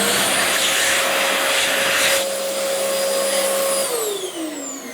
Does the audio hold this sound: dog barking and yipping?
no